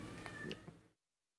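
House cats meowing loudly indoors, a few short overlapping meows with a rising cry near the middle, close by, then cutting off to silence.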